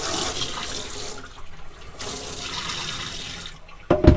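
Water gushes from a hose into a sink or basin in a small off-grid tiny house, a loud splashing rush that pauses and resumes, ending with a sharp clatter.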